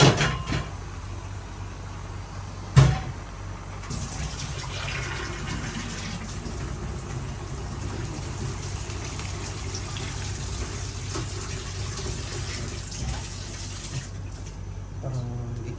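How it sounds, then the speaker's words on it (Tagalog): Water running from a tap into a pot of mung beans for a chicken bone and monggo dish, a long steady gushing fill after a brief knock. "Lagyan natin ng konting tubig."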